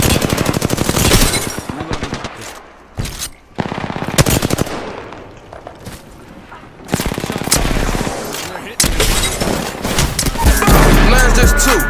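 Rapid automatic gunfire in the shooter game Apex Legends, with loud, dense bursts of shots and a few short gaps between volleys, while voices call out over the fighting.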